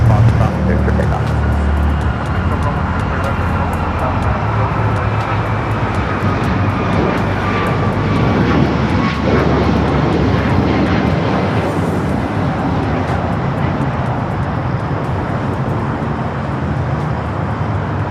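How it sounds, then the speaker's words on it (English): At LAX, an airliner takes off from runway 25 right, producing a loud, sustained jet engine roar that stays steady throughout, with faint voices talking beneath it. "runway 25 right at Foxtrot, clear for takeoff"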